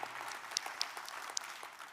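A keynote audience at a conference breaks into steady applause, a broad wash of many hands clapping with a few sharper claps standing out, fairly distant and without talk.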